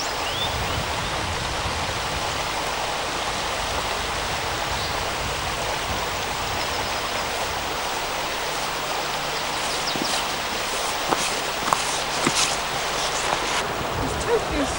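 A river in Exmoor National Park rushes steadily with a broad, constant watery roar, close and loud, with a few faint clicks near the end.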